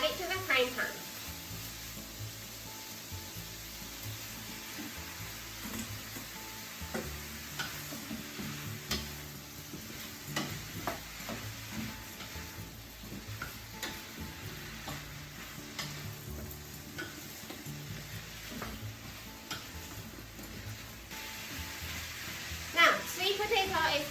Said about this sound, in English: drain the sweet potato and add it to the frying pan.